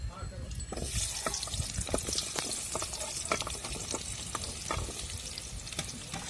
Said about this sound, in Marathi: दोन तीन मिनिटं असे भाजून घ्यायचे चांगले तेलामध्ये